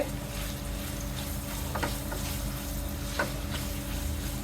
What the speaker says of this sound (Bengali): এটাকে আমি নেড়ে হালকা ব্রাউন কালার করে নিব।